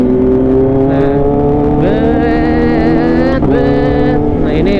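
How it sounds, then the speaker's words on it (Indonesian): Kawasaki H2 motorcycle engine revving on a test ride, a loud, steady close-up engine drone with rising pitch sweeps as the revs climb, a brief dip, then another climb, continuous throughout. "Ini motor bener-bener enak banget cuy."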